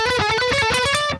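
A fast electric guitar scale run from a solo, played quickly in E mixolydian, a rapid string of bright picked notes, loud and close, ending abruptly.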